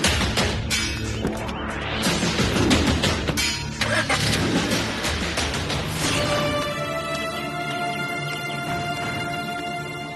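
A car starting and pulling away in a Tamil TV drama scene, loud engine roar and revving under dramatic music, with a steady hum as it drives off.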